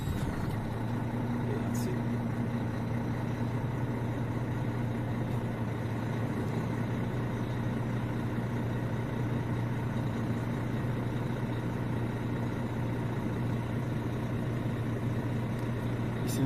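A car engine idles with a steady, even hum for the whole stretch. A person speaks briefly over it.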